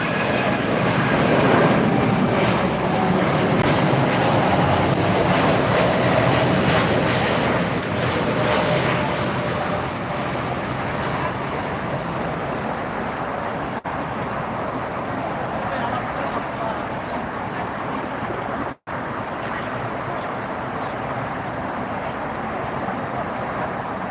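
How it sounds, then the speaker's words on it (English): A Boeing 747 taking off at LAX airport, a loud sustained jet engine roar that stays strong and steady throughout, slowly easing slightly as the aircraft climbs away. "How'd you like that 747, guys? If you enjoyed that close-up view of that takeoff"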